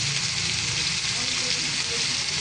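Ground pork giniling sautéing in a pan for ginisang sayote, a steady close sizzle and hiss running without a break, with faint stirring underneath.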